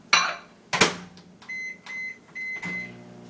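Microwave door clunks and button presses give way to a series of short, high electronic beeps, close and clear, in a brief rhythmic pattern.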